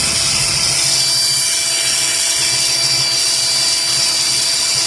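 A power drill bores through the broken center brace of a fish tank to fit a rivet, giving a steady, continuous whirring whine that holds level for the whole stretch with no talk over it.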